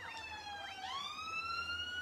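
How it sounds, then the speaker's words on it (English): A siren in the video game Yooka-Laylee wails with rising and falling pitch sweeps, moderately loud over a low background rumble, with no talking. "That's a siren. You may have heard it."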